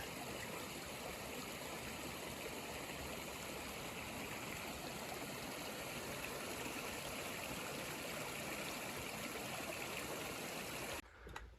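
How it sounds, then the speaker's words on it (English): Broadband rushing of a stream pouring into a sinkhole leading to an underground cave beside a recycled-plastic boardwalk, loud and steady for eleven seconds before cutting off abruptly. "So all this water here, it's flowing right into that hole there, an underground cave."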